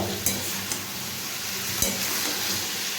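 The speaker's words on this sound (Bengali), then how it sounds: "এবার এটা একটু জাস্ট কষিয়ে নেবো" Curry stir-fries in oil in a pan with a loud, steady sizzle throughout, broken by a few soft scrapes and knocks of the stirring utensil close by.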